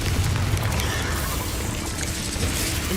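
A Confringo blasting spell explodes in Hogwarts Legacy, a loud, dense, roaring burst that holds steady for the full three seconds without any pause.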